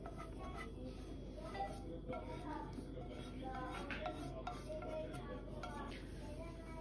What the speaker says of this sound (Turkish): Şöyle çikolatayı da karıştırıyorum içine.